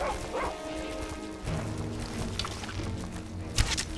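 A dog barks and yips in the Skyrim video game, a few short bursts over game music and ambience, with a sharper bark near the end.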